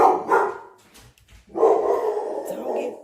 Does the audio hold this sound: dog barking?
yes